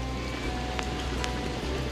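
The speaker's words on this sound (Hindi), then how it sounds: "क्योंकि बारिश भी हो रही है।" Monsoon rain patters steadily on the Goa coast near the Cabo de Rama fort, a soft, even hiss with a few sharper drips close by, with no talking.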